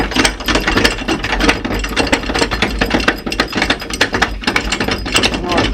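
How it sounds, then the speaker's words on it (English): A caravan jockey wheel is wound out by hand, giving a close, continuous ratcheting and clicking of gears with a steady rhythm throughout. No talking is heard. "you just keep winding the jockey wheel out."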